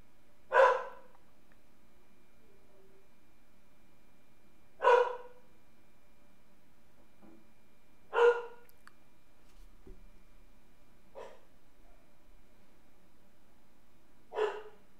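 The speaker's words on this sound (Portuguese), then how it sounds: "É o cachorro não é meu, tá ligado?" A dog barks in single sharp bursts, about every three to four seconds, five barks with quiet pauses between, fairly close.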